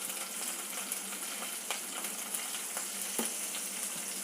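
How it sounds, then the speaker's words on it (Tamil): Mustard seeds, urad dal, green chilli and asafoetida temper in hot coconut oil with a quiet, continuous sizzle and occasional small crackles and pops. "வாழைக்காய் வந்து தேங்காய் எண்ணெயில் போட்டு தாளித்து பண்ணோம்னா சூப்பராக இருக்கும்."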